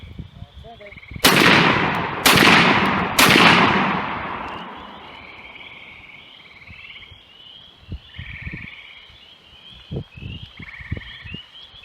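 Three loud, close blasts from a Stoeger M3500 semi-automatic shotgun at a range, about a second apart, each with a long echoing decay, followed by quieter handling clicks and thumps.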